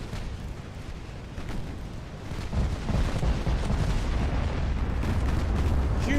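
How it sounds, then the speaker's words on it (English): Heavy naval guns pounding a battleship in Ultimate Admiral Dreadnoughts, a dense, continuous rumble of booming shellfire that swells louder partway through and stays steady. "Huge hits on the battleship."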